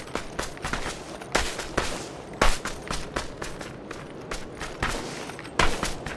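Gunfire in PUBG comes from houses below: a string of sharp shots in irregular bursts, some louder and closer, others fainter, with light footstep-like thuds between them and no one talking.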